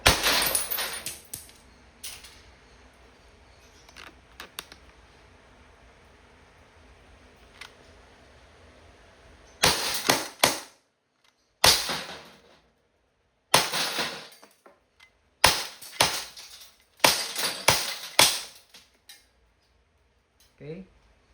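An Umarex Glock 17 Gen 3 airgun fires 4.5mm steel BBs at a target. There are several sharp, snappy cracks in irregular bursts, with quiet gaps between them.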